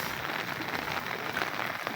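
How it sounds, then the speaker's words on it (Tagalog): Light rain falls in Biliran, a steady, even hiss of drizzle with no talk, continuous and moderately close. "umaambon na rin oh. umuulan na rin dito guys"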